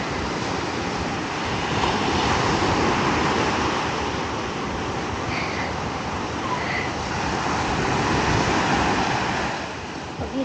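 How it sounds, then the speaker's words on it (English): Ocean surf at Virginia Beach: continuous roar of waves breaking and washing onshore, loud and close, with wind buffeting the microphone and no clear voices. "Here's a video of Sarah and Daddy going on waves."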